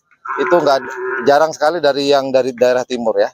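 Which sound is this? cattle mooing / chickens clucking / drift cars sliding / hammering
cattle mooing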